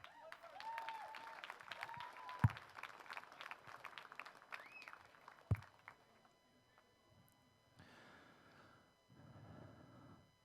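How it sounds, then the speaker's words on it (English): An audience at a USAPL Ohio Classic powerlifting meet at the 2016 Arnold breaks into applause for a gold medalist. Scattered clapping and crowd noise near the start give way to a later swell of fainter, more distant applause. "Big round of applause for Hannah"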